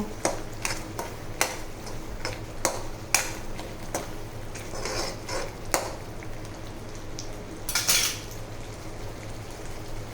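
Spoon stirring Kathiyawadi kaju gathiya curry with thick Bhavnagari gathiya in a metal pan, a string of sharp scraping clinks against the pan over a low steady simmer, close and moderately loud with no talking.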